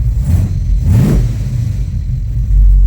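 A squarebody truck engine fitted with a Holley 4150 carburetor rumbles close up at a steady idle, then gives one quick rev that swells and falls away before it settles back to a low idle.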